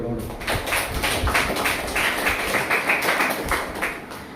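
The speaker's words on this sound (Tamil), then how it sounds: "பேசுவதற்காக பூங்கொடி அவர்கள் உங்களுடைய கைத்தட்டலோடு." Clapping from an assembled audience of schoolgirls at an NSS special camp debate event, a fairly loud patter of hands heard under ongoing speech throughout.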